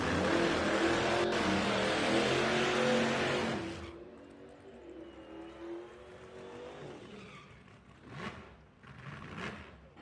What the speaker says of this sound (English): Fourth gen Trans Am there in the right lane